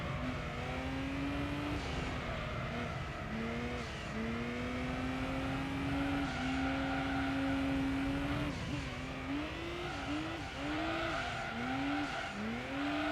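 A car in the Gran Turismo 3 racing game slides with its tail out, tires squealing in wavering, repeated bends over a constant engine roar.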